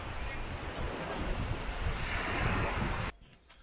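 Sea surf rolls steadily on the Polish Baltic coast at Sarbinowo, a broad continuous wash of waves mixed with wind buffeting the microphone, which cuts out sharply near the end.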